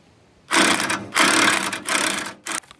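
An impact wrench with a swivel socket loosens the tensioner pulley nut on a Woods L59 belly mower fitted to a 1945 Farmall A tractor, firing in three loud buzzing bursts and a short final rattle, close by.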